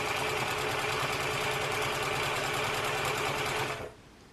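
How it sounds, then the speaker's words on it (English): A sewing machine sews a very thin zigzag stitch on fabric at a fast, steady rhythm for several seconds, then stops abruptly. "I don't have a stretchy stitch on the sewing machine, so I've got a very thin zigzag stitch"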